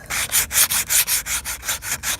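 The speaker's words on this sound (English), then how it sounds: "I'll just take a little piece of sandpaper I've got and hit it with that." Sandpaper rubbing briskly over the wood of a shed in steady back-and-forth strokes, about a dozen rasping passes, close and clear with no talking.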